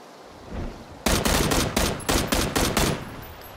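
Gunfire in the Predator video game: a loud burst of rapid automatic shots cuts in after a second of quiet, holding a stuttering rhythm of about eight pulses to the end.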